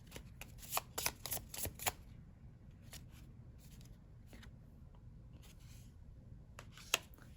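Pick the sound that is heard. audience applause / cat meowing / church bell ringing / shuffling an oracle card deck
shuffling an oracle card deck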